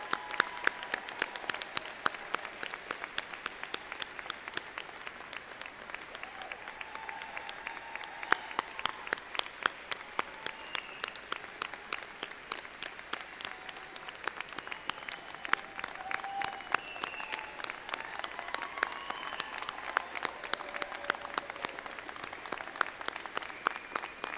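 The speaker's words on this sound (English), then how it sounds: "Round of applause." Sustained audience applause at a 2022 university graduate commencement ceremony, steady dense clapping from a large crowd in a hall, fairly soft and even throughout without speech.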